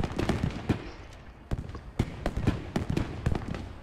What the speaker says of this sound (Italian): Arriva artiglieria